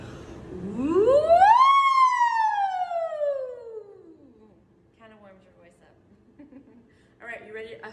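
A voice imitates a fire engine siren, one long rising-then-falling wail held for a few seconds, followed by quieter talk.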